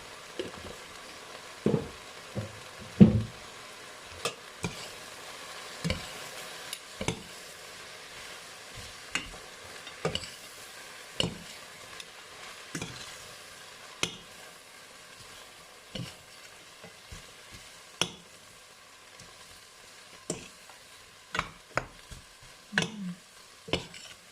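Water spinach stir-fried with oyster sauce in a hot pan: a spatula scrapes and clacks in an uneven rhythm, close and fairly loud, over a faint steady sizzle.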